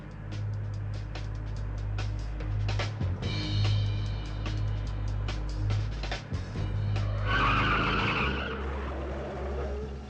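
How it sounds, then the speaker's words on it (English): Car skidding as its brakes lock intermittently, with repeated squeals and a continuous engine drone, ending in a longer, louder skid near the end, no talk over it. "My brakes are locking once in a while."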